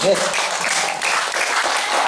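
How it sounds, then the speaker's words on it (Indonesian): A gathered audience at a spiritual talk claps together in a continuous, dense burst of applause, loud and even throughout the brief moment. "Tepuk tangan untuk kita semua dulu."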